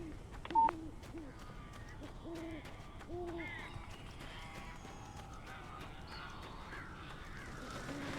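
Crows caw in the Alan Wake video game, several harsh calls scattered across a quiet, eerie ambience with a brief electronic beep near the start.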